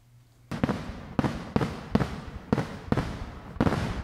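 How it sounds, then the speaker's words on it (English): Fireworks sound effect: a series of about eight sharp, loud bangs at a fairly regular rhythm, each crack followed by a short crackling decay. "I deserve fireworks."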